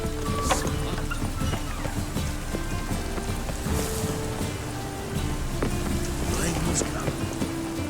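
Rain falls in The Witcher 3: Wild Hunt as a continuous hiss of drops with scattered sharper patters and faint low rumbles, steady throughout while muffled voices and game sounds sit underneath.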